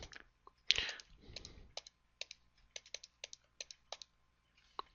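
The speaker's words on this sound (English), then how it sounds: "Oops, I can't type into my calculator." Button presses on a calculator, a quick run of light plastic clicks at a steady tapping rhythm, close and fairly quiet, with a brief rustle near the start.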